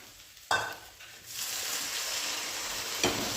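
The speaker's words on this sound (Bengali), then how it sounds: "আমি এখন মাছটা দিয়ে একদম ঝোলের জল দিয়ে দেবো, তাহলে কিন্তু আমার মাছের ঝোলটা আজকে রেডি" Fish curry cooks in a pan with fried spices and potatoes, a steady hiss of frying with two sharp surges of sizzle as things are stirred or added, close and without talk.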